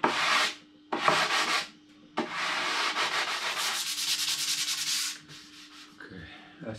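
Close sanding by hand on epoxy-coated fiberglass cloth over the wooden hull of a skiff. Rasping strokes come in bursts separated by short pauses, with a faster, rhythmic run in the middle.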